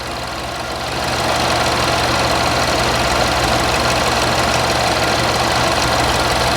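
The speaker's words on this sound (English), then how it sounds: "And the engine's stumbling when it's doing that." A 2012 Buick Verano engine idles roughly with a steady, loud mechanical drone and knocking vibration, stumbling from a wiring harness eyelet fault, continuous with no voices.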